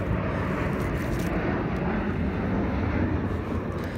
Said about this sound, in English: There goes an airplane above me.